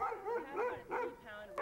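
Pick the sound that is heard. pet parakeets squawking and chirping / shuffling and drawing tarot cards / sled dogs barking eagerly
sled dogs barking eagerly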